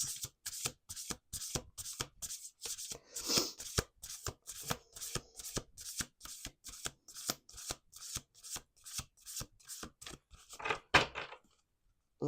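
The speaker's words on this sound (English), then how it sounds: "All right, 2 more shuffles." A deck of cards shuffled by hand close up, a long run of rapid, crisp riffling bursts repeating in a steady rhythm with brief pauses between, fairly quiet and with no talking.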